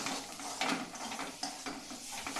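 Spice stuffing for bitter-gourd-like kakrol sautéing in a pan: steady soft sizzling with intermittent scraping and clinks of a spatula stirring against the pan, heard close up with no talking.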